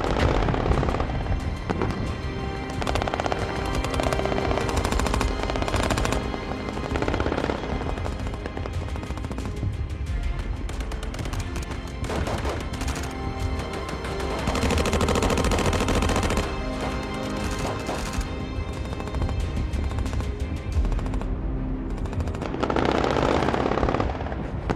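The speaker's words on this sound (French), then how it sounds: "Premier coup parti, reste un obus à la pièce." A 1945 battle scene in the Alps, where the Roc Noir was liberated, has an artillery gun firing shells amid loud sustained gunfire, rumbling blasts and booms. The noise is dense and continuous throughout.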